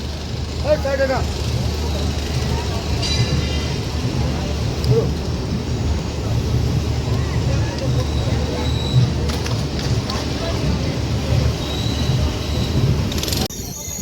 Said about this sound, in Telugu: మన ట్రైన్ అయితే బయలుదేరింది